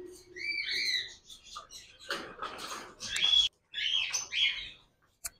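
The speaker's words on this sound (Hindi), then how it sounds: "ग्रीन फिजेंट है।" A green pheasant calls amid other caged birds at a busy bird market, a series of sharp, shrill chirps and whistled squawks in quick bursts, fairly close, with brief gaps between calls.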